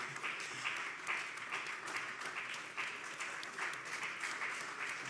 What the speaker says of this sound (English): Please keep clapping.